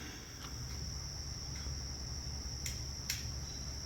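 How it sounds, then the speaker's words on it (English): Yellow jackets in a nest exposed under removed carpeting and padding in a haunted house, giving a steady, dense insect hum, close and continuous, with a few brief clicks, and no talking. "you can see them buzzing around a little bit there. That's a yellow jacket nest"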